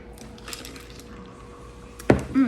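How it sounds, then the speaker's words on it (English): A utensil stirs food in a pot at home: a quiet stretch, then one sharp metallic clank against the pot and a softer scraping knock just after. "Give it a little stir."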